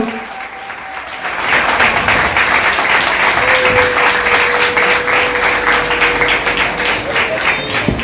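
An audience at a live Kutch Vagad community gathering honouring members breaks into loud, sustained applause that swells after about a second and holds steady, with a voice carrying over the clapping.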